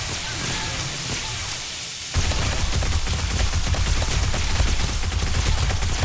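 Submachine gun fire in the zombie survival game 7 Days to Die, a dense continuous burst of rapid shots that starts abruptly about two seconds in and keeps rattling loudly to the end, after a quieter rain-like hiss.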